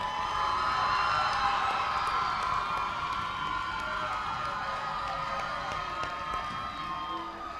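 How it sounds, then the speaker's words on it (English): Crowd at a Francis Marion University men's basketball game cheering and applauding for the 2023 Homecoming King, a loud continuous roar of cheers, whoops and shouting in a large arena. "One more big round of applause for the 2023 Homecoming King"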